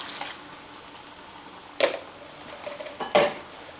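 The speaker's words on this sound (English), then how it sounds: "Okay, let's give it another good stir." A spoon scrapes and clinks against a pot of keto chili with beef broth, two distinct metallic knocks over a soft background hiss.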